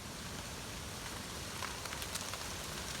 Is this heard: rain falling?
yes